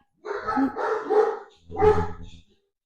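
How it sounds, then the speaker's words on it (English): A dog barks in two bursts, a longer run of loud, close barks followed by a single shorter bark, with no other sound around them. "dogs like to bark"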